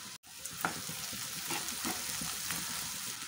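Sliced onion and long-cut green chillies sizzle steadily in hot oil in a pan, with a continuous close frying hiss and a few soft stirring clicks.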